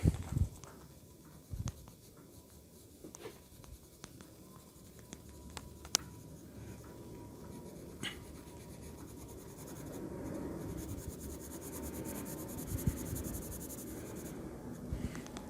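Markers scratch and rub steadily across paper while colour is applied, a soft continuous scribbling texture with occasional small taps, close and quiet with no talk.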